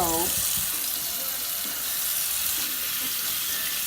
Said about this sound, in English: I'll take like some lukewarm water, not really lukewarm, it's more cold than anything, to rinse off my potatoes